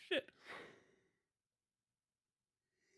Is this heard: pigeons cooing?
no